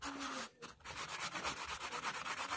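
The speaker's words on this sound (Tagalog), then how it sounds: "Kung hindi naman siya tinamaan or naglapat, yung may mga gasgas, ay huwag nyo nang lihain." Sandpaper rubs back and forth over scratches on the cylinder of a Mio Soul i 115 fuel-injected scooter engine, steady rhythmic strokes close up with a brief pause near the start.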